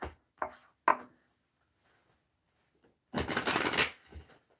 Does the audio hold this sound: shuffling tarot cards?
yes